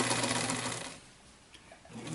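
Sewing machine stitching the outline of a thick denim pouch, a close, loud rapid whirring run that slows and fades out partway through, leaving a quieter stretch.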